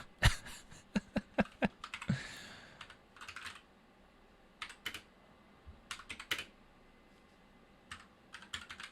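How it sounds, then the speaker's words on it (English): Fingers type on a computer keyboard in quick bursts of sharp clicks, then slower scattered keystrokes with short pauses between them, close and moderately quiet. "Gonna type a little slower."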